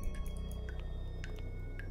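Water drips steadily in a dark, eerie horror game, a series of small close plinks at an irregular pace over a low ambient hum, with no voices.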